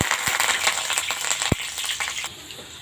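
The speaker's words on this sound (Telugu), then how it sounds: "కరివేపాకు క్రిస్పీగా అయ్యేంత వరకు వేయించుకోవాలండి" Curry leaves fry in hot oil for a poha mixture, crackling and sputtering steadily with a few sharp pops close by, and no talk over the sizzle.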